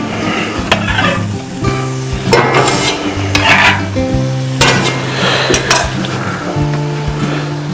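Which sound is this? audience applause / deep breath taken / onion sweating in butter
onion sweating in butter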